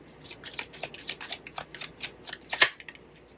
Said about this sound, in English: let me get a couple more cards and see what's going on